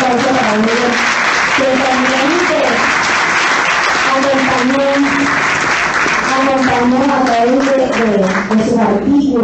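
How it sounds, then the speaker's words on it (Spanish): An audience applauds at a Venezuelan political event while a voice carries on speaking and chanting through the clapping, which stays loud and steady the whole time. "un fuerte aplauso para ella"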